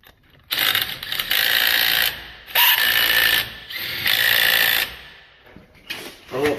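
A ratchet works a bolt on a dually wheel adapter plate for a Ford F150, producing bursts of fast mechanical clicking separated by short pauses, close and loud, with no voices.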